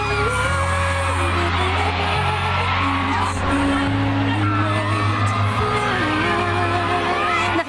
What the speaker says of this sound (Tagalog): mas nakakabingi ang sigawan sa napakatamis na halik ni na James at Nadine